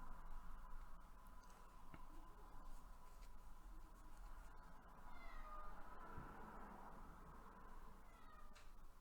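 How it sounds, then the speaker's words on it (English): Faint cat meows come from somewhere in the room, a few short cries spread over a quiet background. "apologies if you can hear my cat meowing in the background"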